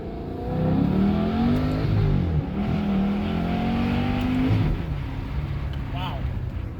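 An engine in a cheap Ferrari pulling away in first gear, rising in pitch as it revs, dropping briefly, then climbing again, loud and close, with someone talking over part of it.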